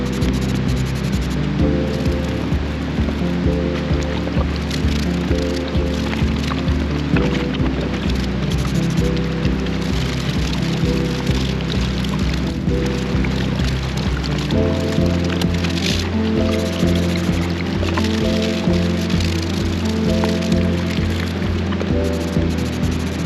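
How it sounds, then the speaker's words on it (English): Water sprays steadily over the bottom case parts of a 1976 Yamaha XS650 motorcycle engine during cleaning with Dawn Power Wash degreaser, a continuous close hiss running under louder background music. "I'm going to get the water, and I'm going to put it on the parts as well as I clean them"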